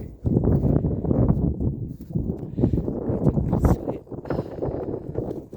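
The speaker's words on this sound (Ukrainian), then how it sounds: "Вітер є." Gusty wind at a cemetery buffeting the microphone in low, rumbling blasts that swell and drop, fairly loud and close.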